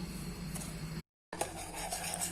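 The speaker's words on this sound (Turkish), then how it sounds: "Şimdi karamelimizi yapmak için şekerimizi güzelce yavaş yavaş karıştırıyoruz yakmadan" Sugar is stirred slowly in a pan to make caramel, giving a soft, steady scraping and clinking of a utensil against the pan, broken by a brief silence midway.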